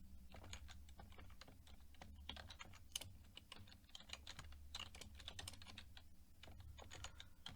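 Rapid, continuous keystrokes on a computer keyboard as someone types Java code, steady clicking taps close to the microphone with no voices.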